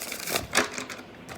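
A brief, quiet riffle of tarot cards being shuffled, two soft papery bursts close by with no talking.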